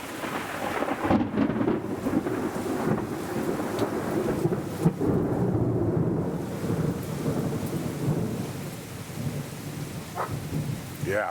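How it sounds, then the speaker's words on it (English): Thunder rolls through a heavy Florida rainstorm, deep rumbling swells over a constant hiss of rain on surfaces, loud and close with a sharper crack partway through. "the thunder boomers down here can be intense"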